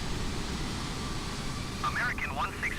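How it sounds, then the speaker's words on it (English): Airliners taking off in Microsoft Flight Simulator, a steady engine roar with a person talking over it toward the end. "Beautiful sounds for the other planes. So, watch it take off."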